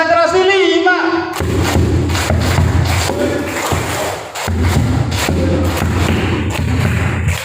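A large group claps a five-count concentration clap pattern, the loud, dense rhythmic claps and thumps repeating in a crowd setting with some chanting voices mixed in.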